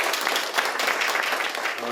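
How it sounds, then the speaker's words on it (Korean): Loud, dense applause with cheering from an audience at an arts education policy forum, sustained and close. "뜨거운 함성과 박수 부탁드리겠습니다"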